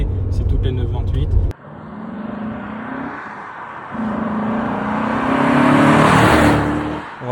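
Porsche 928 S4 front-mounted engine, a steady loud mechanical roar with a rising rev and sustained whir that builds toward the end, heard close after a brief burst of sound at the start.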